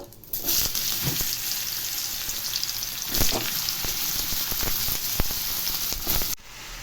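Bottle gourd pieces tumble into hot oil already holding torn dried red chillies and bay leaves, setting off a loud, steady frying sizzle with a few sharp crackles and pops that ends abruptly near the finish.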